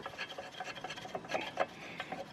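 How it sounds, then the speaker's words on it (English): Metal scrapes and rubs close by as a brake caliper carrier is refitted on a Ford Fiesta ST150, with short rasping strokes and light clinks in an irregular rhythm. "So now I'm going to put the carrier back on."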